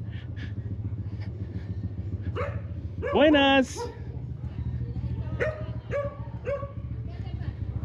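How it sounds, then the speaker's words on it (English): A dog in an orange harness barks on a neighborhood street, a loud close burst of barks midway followed by several sharper yips, with a person speaking and low traffic rumble throughout. "this doggy with its orange harness"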